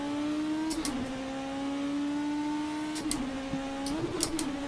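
Race car engine in the rFactor 2 racing game at Sebring, whining steadily with pitch steps as gears shift down, plus a few sharp clicks and bursts; no talk.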